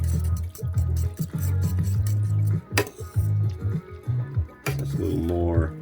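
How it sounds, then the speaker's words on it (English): A utensil gently stirs instant curry noodles in a pot, making soft liquid sloshes with occasional metallic clinks against the pot. A voice talks intermittently over it, and a couple of sharp clanks stand out. "To gently stir."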